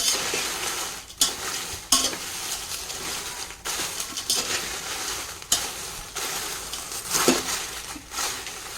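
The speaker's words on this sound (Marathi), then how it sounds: "आता बाकीची सर्व मिरची आपल्याला अशाच प्रकारे भाजून घ्यायची आहे" Dry chillies, part of a homemade garam masala made with four kinds of chillies, are roasted in a dry pan. Loud, steady rustling and scraping comes in repeated stirring strokes, with brief pauses between them.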